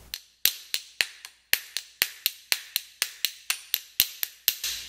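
A hammer struck repeatedly during a durability test, sharp metallic whacks landing in a fairly steady rhythm of about a dozen blows, close and loud with quick decays, no voices.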